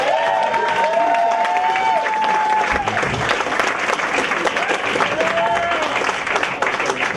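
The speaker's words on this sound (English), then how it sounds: "Please give a nicer, much nicer round of applause for Mike Lawrence." An audience at a stand-up comedy show claps and cheers for a comedian, a loud continuous crowd noise with some whooping, while tonal music plays underneath.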